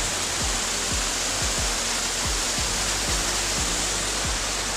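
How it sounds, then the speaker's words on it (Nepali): A waterfall roars as a loud, steady broadband rush, with regular low thumps pulsing through it at roughly half-second intervals. "म चाहिँ फेरि अर्को झरना भेटिसकेको छु"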